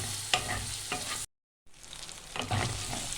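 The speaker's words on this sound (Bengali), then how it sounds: "সব দিয়ে একটু ভালো করে কষিয়ে নিতে হবে।" Spice masala being stirred and fried in a pan for a dhaba-style egg tarka, a steady close sizzle with a few spatula scrapes, broken by a short silent gap before the frying resumes.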